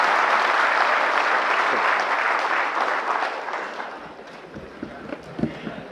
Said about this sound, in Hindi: एक बार तालियों के साथ उसी एनर्जी को वापस लेके आएंगे जो सुबह थी हमारे लिए।